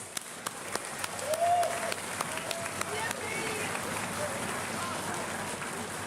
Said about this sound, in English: Can we give our winds, brass, percussion a round of applause?